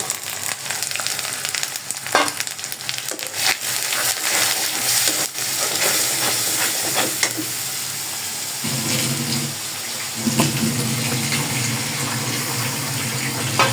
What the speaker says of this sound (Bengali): একটু পানি দিয়ে বাটিটা ধুয়ে বাটিতে যে মশলাগুলো লেগে ছিল ওগুলো দিয়ে দিলাম